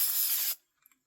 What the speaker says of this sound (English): you have to spray them with something.